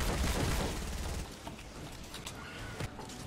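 Hydra assault rifle in Fortnite Save the World firing a dense burst of rapid shots, then scattered quieter gunfire and impacts.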